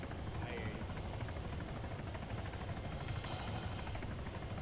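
A helicopter rotor in a military shooter video game drones steadily and loudly throughout, a constant dense whir with no pauses, filling the whole stretch.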